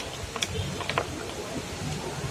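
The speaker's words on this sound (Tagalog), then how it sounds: "Ano ba yan guys? Umuulan." Steady rain hisses and patters outdoors during a mussel-eating meal, soft and continuous with a few sharper drips close by.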